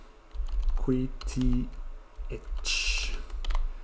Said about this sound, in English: you have to type it like I'm doing it